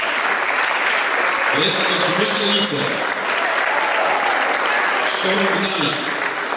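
An indoor crowd at a youth volleyball championship applauds continuously, a dense wash of clapping with an announcer speaking over it through a sound system.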